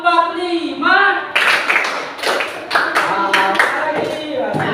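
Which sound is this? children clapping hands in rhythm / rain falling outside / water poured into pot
children clapping hands in rhythm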